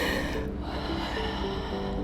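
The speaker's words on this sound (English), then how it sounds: "Yes, I can hear that breathing." Heavy, loud, continuous breathing and gasping from a person exerting during a glute workout, close up.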